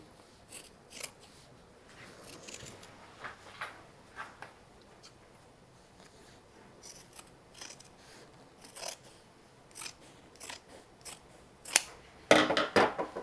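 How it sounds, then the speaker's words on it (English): Scissors snip through a fabric seam allowance on a lined bag in a series of short, crisp cuts with pauses between them, close and fairly quiet, ending in a louder burst of snipping. "Cut this seam allowance back to anywhere between 1/4 and 1/8 of an inch."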